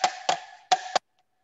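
A plastic bottle is struck twice, each hit a pair of sharp hollow taps followed by a short ringing tone. The strikes are close and clear, then silence follows.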